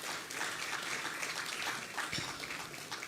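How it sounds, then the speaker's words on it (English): Round of applause from the audience at a Ghana Journalists Association anniversary symposium and lecture, a dense, even, fairly distant wash of clapping filling the hall for a few seconds. "we can give ourselves a round of applause for that"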